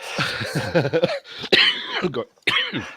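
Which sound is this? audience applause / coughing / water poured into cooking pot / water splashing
coughing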